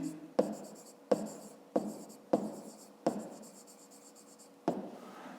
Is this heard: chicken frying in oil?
no